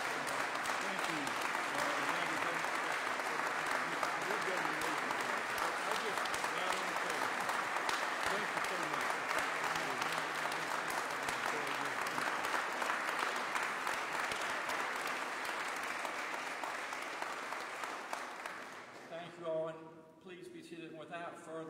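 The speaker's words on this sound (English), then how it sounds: "Please give Gary Wood a round of applause." An audience at a Virginia governor's announcement applauds steadily for a long stretch, the clapping thinning out near the end as a voice begins speaking.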